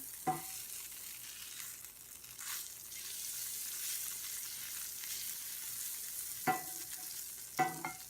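Margarine melting in a cast iron pan, giving a soft, steady sizzling hiss throughout, with a few sharp clinks of utensils against the iron.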